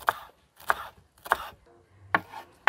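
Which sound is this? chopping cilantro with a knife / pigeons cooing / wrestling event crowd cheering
chopping cilantro with a knife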